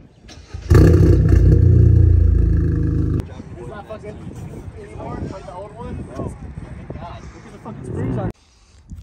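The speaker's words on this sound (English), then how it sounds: "This is gonna be our last loud cold start" A car engine cold start: a loud, rough roar bursts in near the start and holds for about two and a half seconds, then cuts away to quieter outdoor sound with someone talking.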